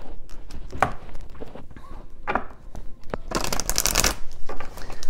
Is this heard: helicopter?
no